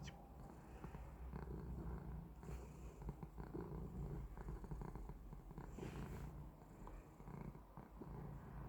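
A cat purrs steadily and quietly up close, a low continuous rumble rising and falling with each breath.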